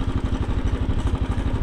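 A 2010 Royal Enfield Bullet motorcycle engine on a ride from Red Hook, Brooklyn, a loud close single-cylinder thump chugging in a steady, even rhythm with no voices.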